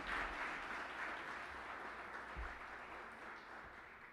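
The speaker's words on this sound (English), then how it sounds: "How about a round of applause for our ELTs?" Applause from an audience at a Veterans Day breakfast hosted by Louisville MSD and Louisville Water, a steady wash of clapping that stays moderately loud for the whole span and tapers slightly near the end.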